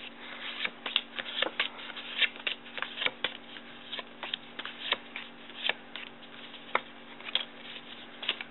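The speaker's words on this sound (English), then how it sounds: "All you need to do is pick a card and deal out those many cards." Playing cards are dealt out one by one into stacks, making a steady run of light, crisp flicks and taps close by, with no talking.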